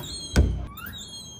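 A door opening at night with a single solid thunk of wood and latch up close, followed by a faint creak and quiet room tone.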